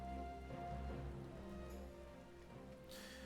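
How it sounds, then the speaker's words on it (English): Rain falls in Final Fantasy XIV, a steady soft patter over low game ambience and faint musical tones throughout. "Oh, and now it's raining."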